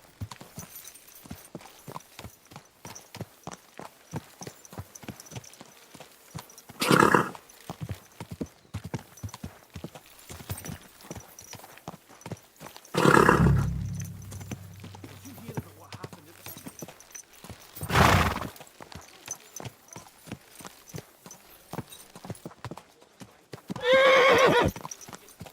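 Horse hooves clip-clop in a steady walking rhythm in Kingdom Come Deliverance 2, with several loud neighs and whinnies breaking in at intervals; the hoofbeats stay close and continuous beneath the calls.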